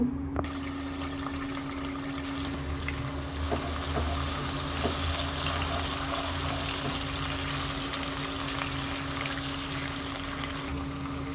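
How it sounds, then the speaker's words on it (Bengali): Chopped onions dropped into hot oil in a pan where a rohu fish head was just fried, for a Bengali mixed vegetable dish, give a steady, even sizzling hiss with faint bubbling that carries on without a break. "এখন আমি গরম তেলটার মধ্যে দিব পেঁয়াজ কুচি"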